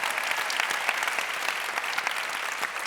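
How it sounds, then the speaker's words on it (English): An audience at a health-technology summit applauds in a short, even burst of clapping, close and sustained with no talking over it. "that's a round of applause"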